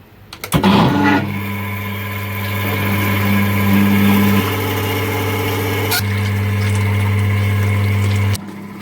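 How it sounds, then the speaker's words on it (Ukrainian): An impeller pump transferring sunflower oil starts up and runs with a steady mid-pitched mechanical hum and whine, loud and continuous, with no talk over it. "Вмикаємо насос."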